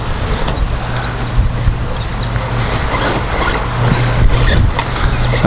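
The electric motor of a VRX RH1045 Octane XL 1:10 RC truck whines and hums as the truck drives over rough ground, steady and close, with a cogging, low-torque strain before it rolls.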